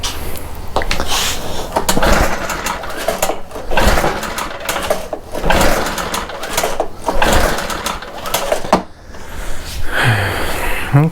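A BR800 backpack blower's small two-stroke engine runs at full throttle with the choke on, a loud, rough, surging buzz that rises and dips unevenly before briefly faltering near the end.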